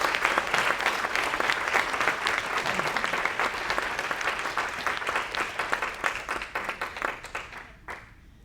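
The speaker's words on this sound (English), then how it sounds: "let's give a round of applause to Dana DuPont" Sustained audience applause at a wellness symposium on addiction and recovery in Portland, dense and loud through most of the stretch, then thinning into scattered claps before fading out near the end.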